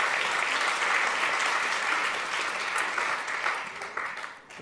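Warm applause from an audience at a municipal interview event in Amsterdam, a steady dense wash of many hands clapping that carries on throughout and tapers off slightly at the end.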